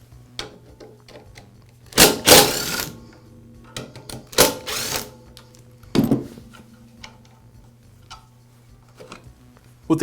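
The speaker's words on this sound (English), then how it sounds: "I'll begin by removing the motor end cap. It's held in place with a couple of screws." Screws are taken out of the motor end cap of a DeWALT chop saw, giving sharp clicks and ticks with a few louder bursts of metal scraping and rattling close by, with no talk.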